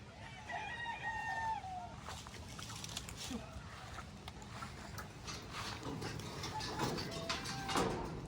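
Hens and chickens in a yard cluck and call, one rooster-like cry among them, over a steady outdoor background, with people talking now and then.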